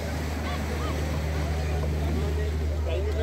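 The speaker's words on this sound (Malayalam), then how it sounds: "ഫ്രണ്ട്സ് അതാ ബോട്ട് എത്തിക്കഴിഞ്ഞു." A fishing boat arrives at Vizhinjam harbour with a low engine drone and water wash underneath, while a crowd murmurs and talks nearby throughout.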